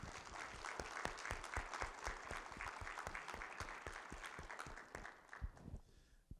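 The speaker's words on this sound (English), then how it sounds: "I believe they deserve a round of applause" A church congregation at an evening singspiration claps for the youth group, a brisk, steady round of applause heard at a distance and fairly quiet, with sharp claps tapering off at the end.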